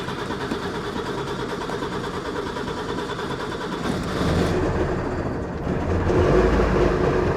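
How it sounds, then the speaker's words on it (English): Trabant two-stroke engine starting and idling: a steady mechanical drone that swells as it catches, then settles into a loud, rough idle close by. "let's see if it'll fire up now"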